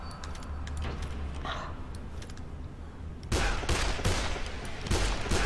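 Gunshots in the video game Dead Island, a few faint clicks and thumps at first, then a loud volley of sharp cracking shots in quick succession over the last two seconds.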